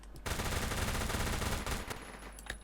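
Automatic rifle fired in a long sustained burst into a wall in the video game Phantom Forces, a loud rapid stream of gunshots lasting over a second, then a few scattered sounds trailing off, with no talking.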